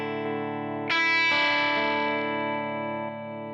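Electric guitar through a Fleetwood-labelled effects preset with distortion: a sustained chord rings, then a louder, brighter distorted strum enters and holds with reverb before easing down, played alone with no talking.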